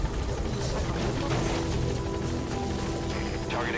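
A helicopter in the Metal Gear Solid V game drones with a steady rotor hum and whir, filling the background while a voice speaks faintly over it.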